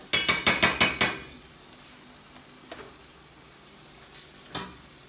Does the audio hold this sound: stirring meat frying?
yes